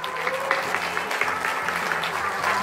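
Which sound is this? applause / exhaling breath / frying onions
applause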